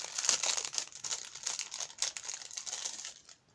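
A Temu package is opened, its plastic packaging crinkling and rustling continuously at close range, quiet but busy, with no talking.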